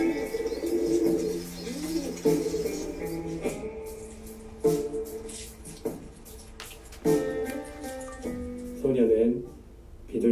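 A pigeon coos repeatedly in soft, low, rolling phrases, mixed with clicks and other scattered sounds while someone talks over it much of the time.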